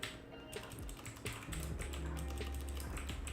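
Fast, clattering typing on a computer keyboard that is behaving oddly, a dense run of close key taps and clicks over a low hum, with no speech.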